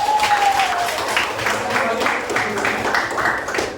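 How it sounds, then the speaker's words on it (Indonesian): Classroom applause for a student group, a short burst of scattered clapping from many hands that stays fairly steady and fades slightly at the end, with a voice briefly audible at the start. "tepuk tangan untuk kelompok 1"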